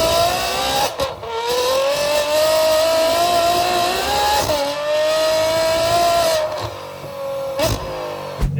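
A Ferrari F12 V12 engine revs hard on a dyno, several long sustained high-pitched wails with brief lifts and dips between pulls, loud and close.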